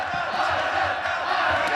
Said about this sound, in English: And the crowd vocalizing their support for Qazaq Ahmetov